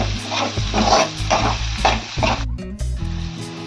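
Ridge gourd and egg curry seasoned with chili powder sizzles in a pan, with a continuous close frying hiss broken by rhythmic stirring scrapes and short pauses.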